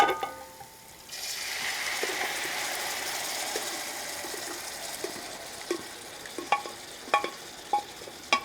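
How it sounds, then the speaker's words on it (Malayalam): Beef for a Kerala-style pepper roast hits a hot pan with a sudden loud hiss after a moment of quiet. A sustained sizzle follows, then sharp metallic scrapes and clicks as it is stirred. "ഇനിയിപ്പോൾ നമുക്ക് ഇതിനകത്തോട്ട് നമ്മുടെ ബീഫ് ഫുള്ളായിട്ട് ഒഴിച്ചു കൊടുക്കാം."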